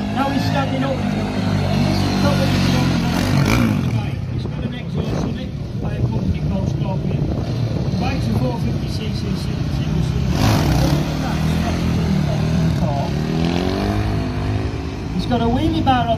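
A Yamaha quad bike with a fabricated wheelie bar runs its engine steadily through a stunt-show wheelie, with a loud, continuous low drone and wind buffeting, and someone talks over it.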